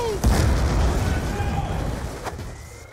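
A grenade goes off in Black Ops 2 as a deep, heavy boom with a rumbling tail, loud and close, and chaotic game sounds and voices mix in around it.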